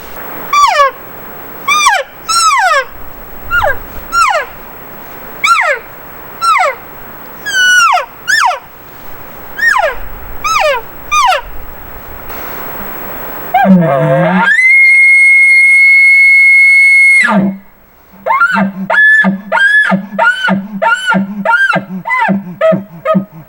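Series of rising-and-falling squealing elk calls blown on a latex diaphragm call, loud and close, then a sustained high bugle-like tone and a run of short chirping grunts.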